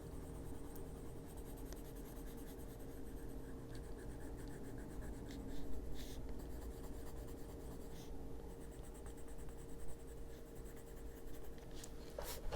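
Colored pencil pressed hard onto paper, making a steady, faint scratchy scribbling that runs continuously with a few small taps and shifts.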